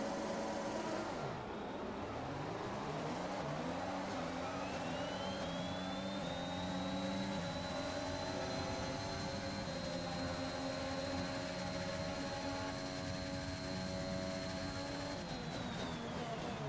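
Engines of F1 cars in F1 2021 rise together as the grid launches from a race start on a Russian circuit, a dense loud roar with climbing whines sustained throughout.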